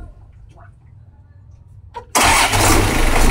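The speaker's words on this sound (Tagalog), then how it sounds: "I-start natin yung engine mga pre." A boat engine with a rusty, sticking clutch line cranks and catches abruptly after a quiet stretch of faint talk, then runs loud and steady, close up.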